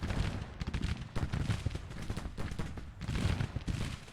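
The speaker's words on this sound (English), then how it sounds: "artillery opening up" Artillery and massed gunfire in Grand Tactician: The Civil War, an 1862 Confederate battle, a dense rolling stream of overlapping shots and booms, heavy and continuous with brief lulls between volleys.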